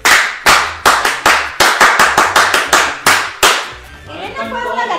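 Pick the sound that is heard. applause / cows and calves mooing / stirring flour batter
applause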